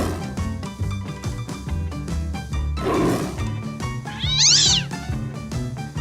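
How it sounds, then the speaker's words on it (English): A small cat meows once, a short rising-and-falling call standing out over a loud, busy bed of music that continues throughout. "Even the smallest cats are little tigers."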